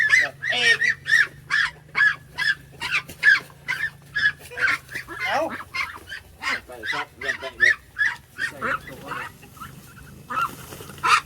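Ducks quacking repeatedly in a loud, rhythmic series of harsh calls, close by, with a low steady hum underneath and no talking.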